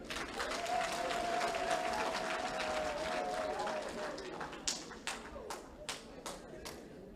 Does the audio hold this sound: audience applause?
yes